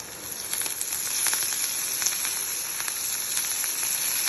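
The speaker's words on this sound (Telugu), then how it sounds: "ఆనియన్ కొంచెం ఫ్రై అయ్యింది, బాగా వేడింది." Onions frying in a hot pan sizzle steadily with a bright, continuous crackle and small popping bursts, close and alone without talk.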